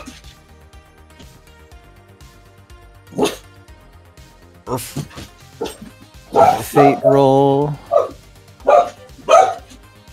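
A pet dog gives several loud barks near a tabletop role-playing session, clustered toward the end between people's talk.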